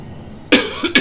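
Someone who is sick coughs, starting with a loud harsh bark after quiet background, followed by a smaller cough and another sharp one close to the microphone.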